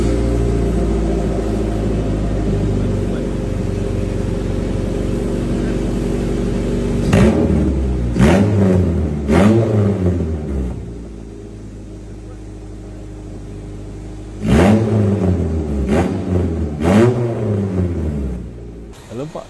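A car engine fitted with a modified exhaust idles with a deep, loud rumble, then blips in two bursts of sharp revs, each a few quick throttle stabs before settling back to idle.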